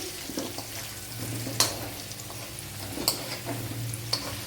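Three dried red chillies fry in hot oil with turmeric for an Onam nellikka (gooseberry) pickle, producing a soft, continuous crackle and sizzle close by, marked by a few sharp clinks of a spoon against the pan.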